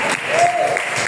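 Church congregation applauding during a Sunday service, a brief burst of steady clapping with a faint tonal voice or sustained note passing through the middle.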